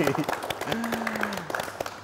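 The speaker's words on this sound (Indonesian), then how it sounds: "Tepuk tangan dulu dong, biar rame" Clapping in a podcast studio during an Indonesian technology and automotive show, scattered hand claps over a steady hiss, with a voice and a sustained tone running beneath them.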